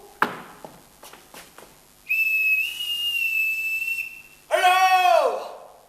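A shrill whistle piped twice during a stage play: a long, steady, high tone, then a shorter, louder blast that bends downward. A few soft knocks and footsteps come before it.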